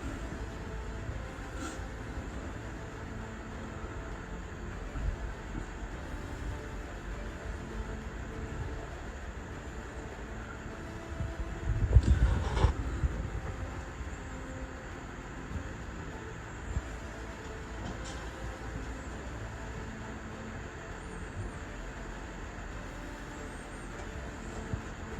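A Heritage 56-inch four-blade industrial ceiling fan with steel blades, running on 120 volts, spins down with a steady, faint whooshing hum. A brief louder bump rises midway before the hum settles again.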